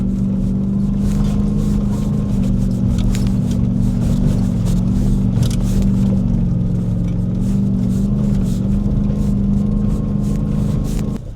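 A supercharged Ford Raptor R climbs uphill off-road, its engine droning loud and close in a sustained low rumble with slight pitch shifts, plus road and wind noise, ending with a slight drop.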